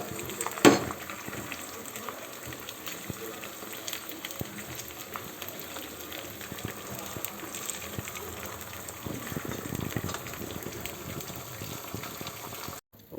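A salted half-fry omelette sizzles in a pan with a steady, close, continuous crackle that lasts throughout. A brief louder clatter comes near the start.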